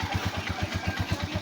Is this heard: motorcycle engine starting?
yes